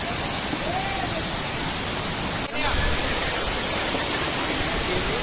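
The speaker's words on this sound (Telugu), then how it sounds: "వాటర్ ఫాల్ పెద్దనే ఫ్లో అవుతుంది" Kothapalli waterfall pouring heavily into a deep gorge, a steady broadband roar of falling water close by and continuous throughout, with a brief dip midway.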